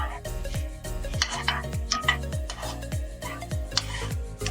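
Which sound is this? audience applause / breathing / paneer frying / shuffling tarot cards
paneer frying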